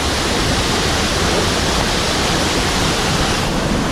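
A waterfall roars as a dense, constant rush of falling water, loud and close throughout with no other sounds.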